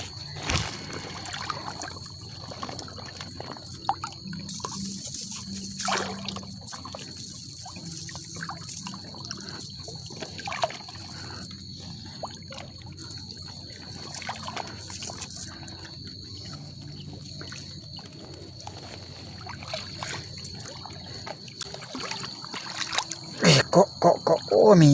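Floodwater from an overnight rain pouring along a swollen river, a steady trickling and rushing wash with splashy bursts, moderately close, under scattered faint background sounds.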